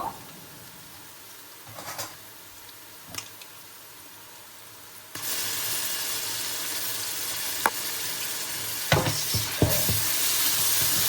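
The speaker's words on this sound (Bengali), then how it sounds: "আদা বাটাটা ভালোভাবে একটু নেড়ে নেব" Ginger paste hits browned onions in hot oil: quiet stirring taps at first, then the sizzle jumps to a loud, sustained hiss with occasional spatula scrapes.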